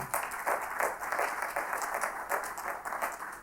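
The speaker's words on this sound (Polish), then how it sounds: "Brawa raz jeszcze dla państwa." Audience applause in a regional assembly hall during a minister's speech, a continuous moderate clapping from many hands with soft swells and no talking over it.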